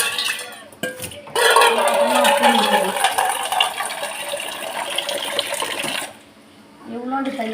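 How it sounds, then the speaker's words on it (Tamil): Water pours steadily into a pot of eggplant curry for several seconds, a broad rushing splash with light metallic clinks, stopping abruptly near the end. "கொஞ்சமாக தண்ணி ஊற்றிக்கிறேன்."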